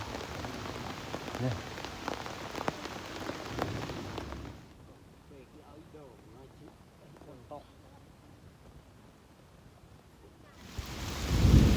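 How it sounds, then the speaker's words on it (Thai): Rain falls steadily in a forest camp where villagers forage and survive in the wild, a broad hiss that fills the first few seconds, eases to quieter patter with faint talk, then swells again loudly at the end. "ฝนตกแล้วพี่น้องเอ้ย"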